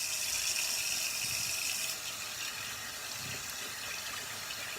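Warm water runs steadily from a tap while being heated for washing and shaving a head, a constant close hiss with no pauses.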